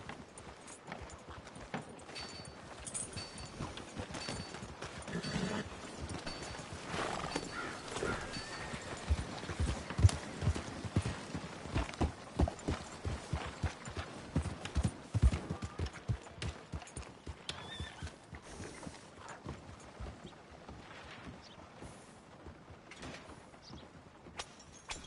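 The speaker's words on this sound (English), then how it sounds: "Hey, good-looking horse there." Horse hooves clip-clop steadily in Red Dead Redemption 2, a continuous, fairly faint rhythmic patter mixed with creaking tack and mechanical clicks, with no talking.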